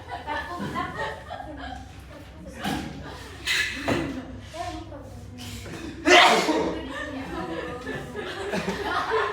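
A sneeze in a fourth-grade primary classroom during a practice lesson, with a sharp burst standing out among chuckles, laughter and ongoing talk from teacher and pupils.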